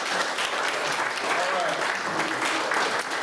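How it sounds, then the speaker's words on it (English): Audience applause at a ribbon cutting ceremony for a YMCA aquatics center, steady dense clapping from a crowd that holds level for the whole stretch, with faint voices mixed underneath. "Let's give them a round of applause for coming."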